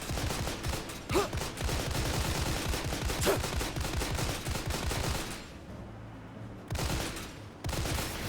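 Sustained gunfire rattles in Granblue Fantasy: Relink, dense rapid bursts of shots in a steady barrage with brief gaps near the end, loud and close without speech.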